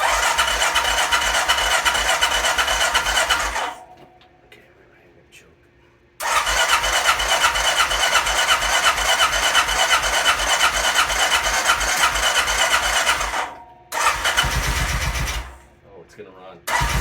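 A 2003 Honda Rincon ATV, its carburetor freshly cleaned, is repeatedly cranked with a loud rapid grinding starter; bursts of cranking are separated by short silences, with a brief engine catch near the end.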